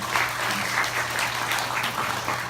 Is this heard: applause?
yes